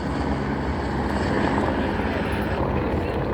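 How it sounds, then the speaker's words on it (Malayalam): A helicopter flies close overhead near a mountain cave-temple trek in Jammu, its dense rotor and engine roar steady and loud throughout with no pauses. "ഇത് കണ്ടോ തൊട്ടടുത്ത് തൊട്ടടുത്ത് കൂടെയാണ് നമ്മുടെ ഹെലികോപ്റ്റർ പോകുന്നത്"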